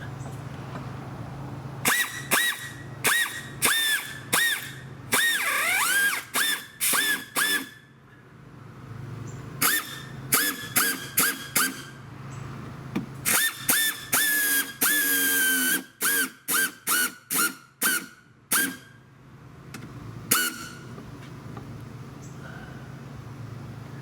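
Repeated bursts of rapid ratcheting clicks from a hand-turned 1/4 inch ratchet with a Phillips bit driving screws, each under a second, in clustered runs with short pauses and occasional squeaks.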